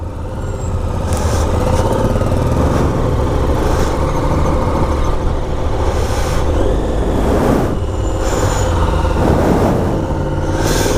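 A group of motorcycles riding out together on a Dorset road, with engines rumbling loud and close in a continuous drone and passing swells rising and falling.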